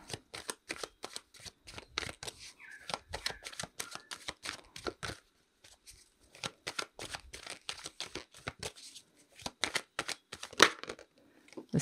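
Tarot cards shuffled and drawn in rapid bursts of crisp riffling and snapping, close and fairly quiet, with a short pause midway before the shuffling resumes.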